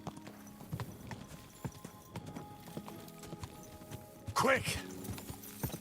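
A horse's hooves clip-clop at a steady walking pace in Kingdom Come: Deliverance 2, with a short whinny near the end and someone briefly talking over the hoofbeats.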